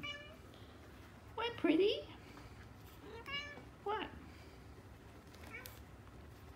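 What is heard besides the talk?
cat meowing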